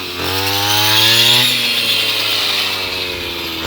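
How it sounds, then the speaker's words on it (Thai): A loud, close brush cutter revving and whining steadily, with its pitch shifting as it works through rice stalks. "ประยุกต์เครื่องตัดหญ้า"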